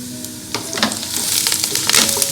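Onions fry in a pot for sambar with a steady crackling sizzle, joined by utensil scrapes and knocks that grow busier midway, close-up and with no speech.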